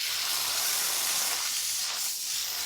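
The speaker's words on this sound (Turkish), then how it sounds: "Tüm tavuğu kızartın." Steady, loud sizzling and hissing of chicken pieces frying in hot oil in a pan, continuous throughout with no voices.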